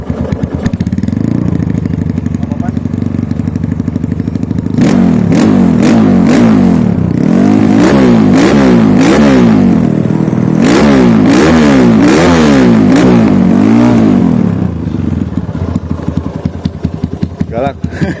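A Kawasaki KLX 140 dirt bike with a GP exhaust idles loud and close, then revs repeatedly in rising and falling bursts before settling back to idle.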